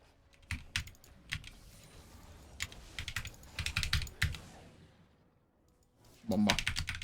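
Computer keyboard typing in quick irregular bursts during a League of Legends game, close up, with a lull before a final loud flurry of keys; faint talk sits underneath.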